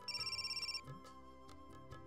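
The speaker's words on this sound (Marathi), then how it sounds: "अरे एक मिनिट, अण्णा काकांचा फोन." A phone ringtone rings in a home in a Marathi TV serial, a bright repeating electronic pattern of about ten quick pulses that cuts off abruptly, followed by background music.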